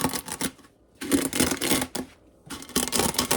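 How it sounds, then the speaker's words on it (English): Dry pasta in a plastic bag is crushed by pressing down with a cup for homemade Rice-A-Roni, giving crisp crackling crunches in three close bursts separated by brief pauses. "I just put it in a plastic bag, and I just took one of my cups and just press down on it"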